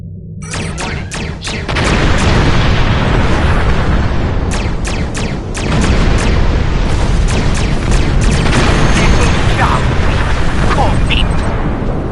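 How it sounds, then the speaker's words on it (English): Energy weapons firing and blasting in Star Trek Online, a loud continuous roar of explosions punctuated by sharp pulsed shots across the stretch. "Press the R2 button to fire energy weapons"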